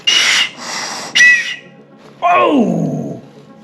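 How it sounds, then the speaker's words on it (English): A life jacket's safety whistle blown hard: two long shrill blasts and a short sharp third, then a louder wavering blast that slides downward, alone and close. "This is your wet whistle here."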